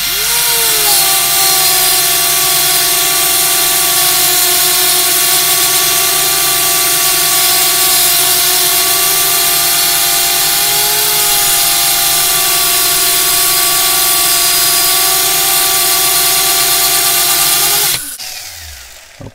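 A power tool grinds slowly and steadily into a steel gun lock part to cut a notch, giving a loud, continuous whine with stable tones for nearly twenty seconds before cutting off abruptly.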